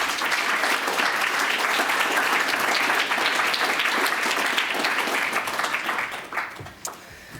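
Crowd at a poetry reading applauding to welcome a poet, a loud sustained wash of clapping that holds steady for several seconds before thinning out into a few scattered claps.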